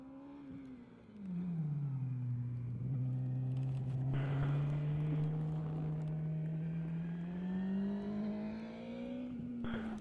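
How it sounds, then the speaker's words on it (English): A motorcycle engine revs up and holds a steady, droning pitch, then rises slightly, loud and fairly close with no talking. "let's turn off my bike so we can hear his bike"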